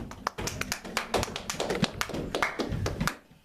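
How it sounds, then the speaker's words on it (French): A church congregation applauds for Jesus during a sermon, a burst of irregular close hand claps and sharp taps that thins out and fades at the end. "Acclamons pour Jésus."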